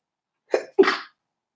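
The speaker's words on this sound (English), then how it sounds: "I have to sneeze." One person gives two quick explosive bursts close by, a short sharp intake and release and then a stronger second burst, with silence before and after.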